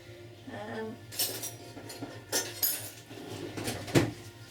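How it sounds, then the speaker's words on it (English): A metal fork scrapes and clinks against a Pressure King Pro pressure cooker pot holding roast beef, with several soft metallic knocks and rattles at close range. "I'll just get a fork just to show you what it's like"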